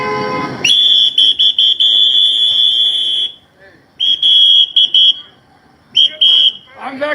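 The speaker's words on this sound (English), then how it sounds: "Then you got your activists with the whistle" A shrill whistle blown loudly in several long blasts separated by short pauses, close by, after a brief burst of voices.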